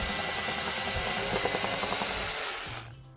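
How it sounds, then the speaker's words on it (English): A power drill bores holes into a wall to mount a Nest Learning Thermostat, giving a loud, steady grinding whir that runs for nearly three seconds before cutting off abruptly. "Now we have to drill some holes in the wall"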